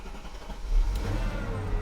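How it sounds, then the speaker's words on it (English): Mercedes SL500 engine cranking and catching, a low rumble swelling up and then settling into a steady idle, close by in a quiet garage. "We'll give her a start before the battery dies"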